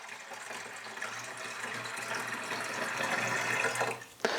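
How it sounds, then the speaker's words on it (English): Water poured gently from a jug into the tank of a Browns gas machine, a soft continuous trickle that grows slightly fuller before a brief pause and a final splash at the end. "It's actually better for the machine to actually use a jug like this and just kind of add the water"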